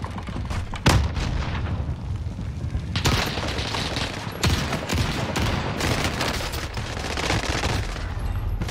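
Dense bursts of gunfire and booming shots in an Army Navy video game match, loud and near, with rapid volleys and heavier blasts running steadily throughout and no talk over them.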